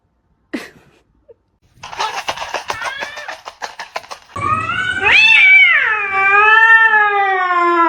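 A cat at home gives a sharp click and a run of rapid scuffling bursts, then a loud, drawn-out meow that rises and slowly falls, close to the listener.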